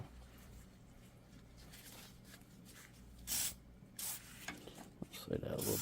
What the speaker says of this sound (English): then we're going to spray some WD on that.